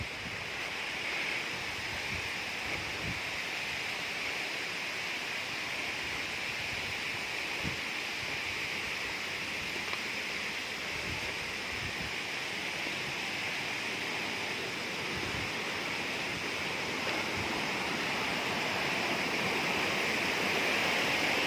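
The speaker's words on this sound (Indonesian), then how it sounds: "Apakah ini curugnya?" A waterfall on a forested slope in Kuningan roars in a steady, dense wash of rushing water that holds evenly from start to finish, with no voices over it.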